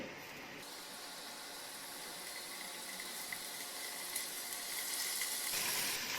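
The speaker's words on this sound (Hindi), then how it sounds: "ऑयल गरम हो चुका है, अब इसमें पनीर डालेंगे और उसे फ्राई कर लेंगे।" Paneer cubes frying in hot oil in a pan at low-medium heat, a steady close hiss of sizzling that swells slightly louder toward the end, with no talk.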